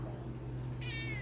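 A pet cat at home gives one clear, drawn-out meow near the end, close and fairly loud over a steady low indoor hum, with no one speaking.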